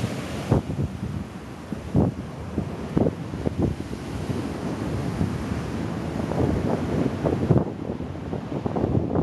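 Ocean surf on an English beach near Mudeford, heard under strong gusting wind buffeting the microphone, with waves breaking in repeated rushes amid constant roar.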